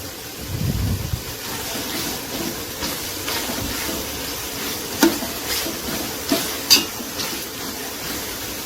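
Food fries in a pan with a steady, close sizzling hiss, joined by a few soft stirring knocks and scrapes, and no talking.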